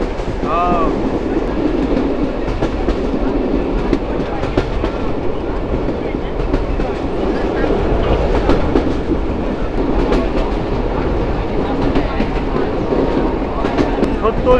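A Rajshahi to Rohanpur commuter train runs steadily with a continuous loud rumble and rhythmic clickety-clack of the wheels on the rails, heard from inside the carriage.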